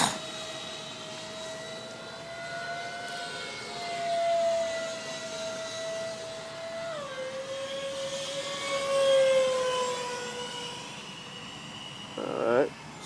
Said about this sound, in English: It's the smoothest EDF jet I've ever flown.